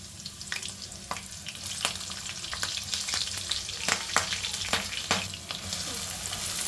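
Cumin seeds and green chillies sizzle and crackle in hot oil in a pan, with soft steady frying and sharp pops scattered throughout, no voices heard.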